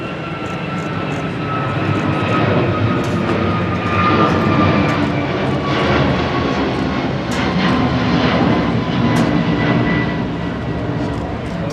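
A jet airliner approaches to land at the 2023 Paris Air Show, its engines making a loud, continuous roar that swells and holds steady throughout.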